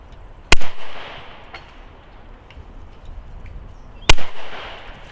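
A Browning Maxus II shotgun fires Fiocchi HV4 cartridges during clay shooting: two loud, sharp shots about three and a half seconds apart, each with a short outdoor echo, and no talking between them.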